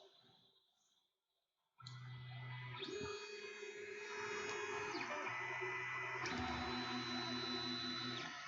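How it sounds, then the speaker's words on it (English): A Sovol SV01 3D printer runs after a quiet start, its stepper motors whirring in steady tones that shift pitch as the moves change, fairly quiet and continuous with no talking. "This actually is a fairly quiet printer too."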